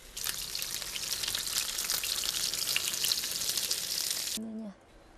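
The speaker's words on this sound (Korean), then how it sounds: "고열량 재료를 기름에 지지고" Fatty, high-calorie ingredients sizzle and fry in hot oil in a home kitchen, a steady dense crackle for about four seconds before cutting off abruptly, followed by a brief faint tonal clink.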